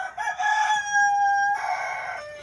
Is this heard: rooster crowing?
yes